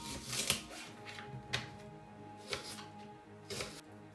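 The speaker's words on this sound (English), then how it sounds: "cut onion" Knife chopping onion on a cutting board in a home kitchen while making pasta bolognese, four sharp evenly spaced cuts about a second apart, close and fairly quiet, with low kitchen background hum.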